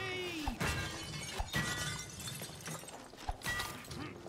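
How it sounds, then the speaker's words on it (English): Glasses shatter in the video game It Takes Two, several sharp crashing breaks with tinkling debris spread over a few seconds, fairly close and without talk. "I'm just smashing all the glasses so you don't get to do it."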